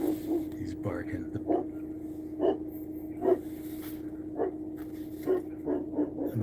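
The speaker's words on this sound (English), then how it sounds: "He's barking." A dog barks several times at intervals, fairly close, with a steady low hum running underneath.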